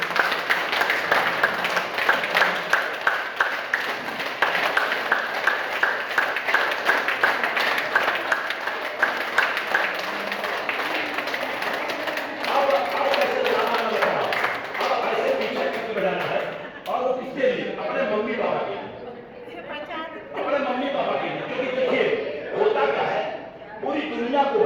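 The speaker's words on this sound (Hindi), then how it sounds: "हाँ अब बताइए ताली जोरदार।" An audience bursts into loud, sustained clapping at a speaking event, dense rapid applause filling the first half before thinning out as a voice talks over it.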